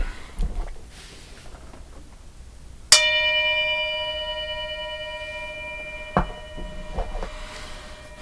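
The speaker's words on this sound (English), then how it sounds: "I'm going to ring the bell." A single bell strike rings out clearly and sustains, its bright tone slowly fading over several seconds amid faint background rustling.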